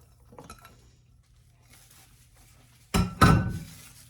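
Okoy batter with chopped onions and onion leaves is stirred in a bowl: a few soft taps early, then two loud clattering scrapes of a utensil against the bowl near the end.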